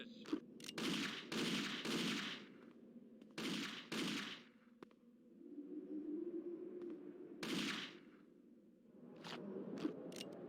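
Gunfire in the video game Indiana Jones and the Infernal Machine: several short, sharp bursts of shots separated by quieter stretches with a low hum, moderately loud and fairly close.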